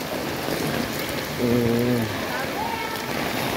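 Steady rain pours onto a school playing field where children splash and play in the water, a continuous hiss that stays even throughout, with a brief voice-like tone rising over it midway.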